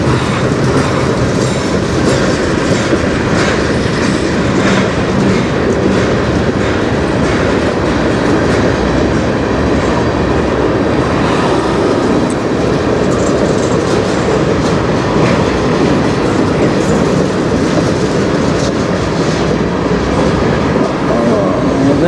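CN M384 freight train cars, mostly empty, rolling through a tunnel, a loud continuous rumble with steady clickety-clack of wheels on rail throughout.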